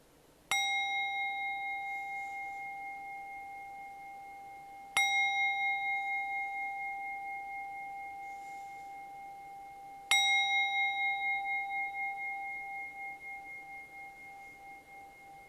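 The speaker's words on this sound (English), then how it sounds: "I invite you to settle into your seats for a brief meditation as I ring the bell." A meditation bell is struck three times at roughly five-second intervals, each strike a clear, bright ring that slowly fades with a gentle pulsing shimmer before the next, alone in a quiet room.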